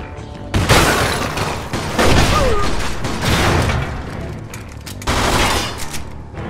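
Gunfire in the Mafia 2 video game sounds as loud bursts of shots that boom and echo, with a sustained roar of fusillades and a short quieter gap.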